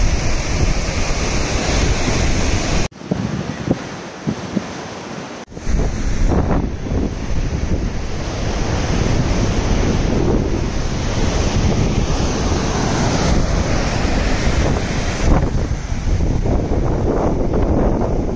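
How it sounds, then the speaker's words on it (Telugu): High, aggressive ocean waves at RK Beach in Visakhapatnam, where the shore shelves steeply, crashing in a loud continuous roar with heavy wind noise on the microphone and a short quieter gap early on. "చూడండి అలలు చాలా హైట్ వస్తుంది"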